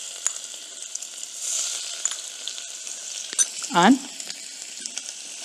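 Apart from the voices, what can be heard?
chopped garlic frying in a pan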